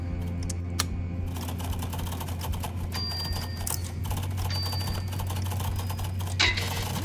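Rapid, uneven clatter of computer keyboard keys during a typing battle royale game, dense clicks and taps running throughout over a low steady hum.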